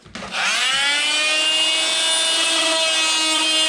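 An oscillating multi-tool bites into a wooden shim with a sharp, high buzzing whine that starts abruptly and holds steady and close for the rest of the moment.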